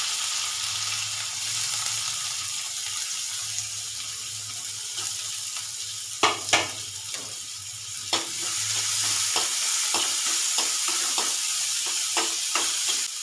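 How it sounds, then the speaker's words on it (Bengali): Green chillies and onion frying in a little oil in a pan, a steady close sizzle running throughout, with a few sharp clinks and scrapes of stirring breaking through in the second half. "কিছুটা কাঁচা লঙ্কা আমি হাফ ভাজবো তেলে"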